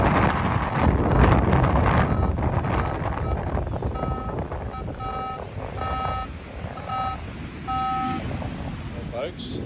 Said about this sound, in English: the wind's a bit fresh